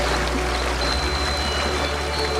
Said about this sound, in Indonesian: air bah datang lebih cepat dari yang aku perkirakan